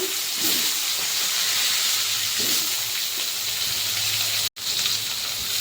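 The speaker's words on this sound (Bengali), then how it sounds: "এবার কেটে দিয়ে রাখা আলুটাও ভেজে নেব" Cut potatoes frying in oil, a steady hissing sizzle close by with faint stirring, briefly cut to silence near the end, no voices.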